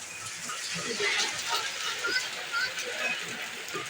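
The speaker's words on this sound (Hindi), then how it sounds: "इतनी तेज़ बारिश है" Heavy rain hisses steadily and densely around a house with a leaking kitchen roof, loud and close, while a person talks over it.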